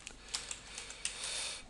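Quiet typing on a computer keyboard, a quick run of light key clicks with a few sharper taps, close and alone.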